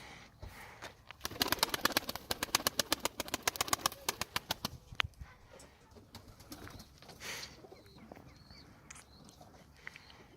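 Tumbler pigeons beat their wings in a rapid flurry of sharp claps, fading into scattered flutters, with someone talking nearby.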